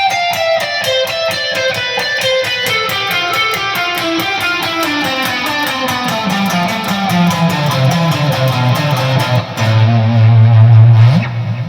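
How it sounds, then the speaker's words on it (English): A fast, distorted electric guitar lick rattles off rapid runs of notes, descending through the phrase and ending on a held, growling low chord. "So the entire lick should sound something like this."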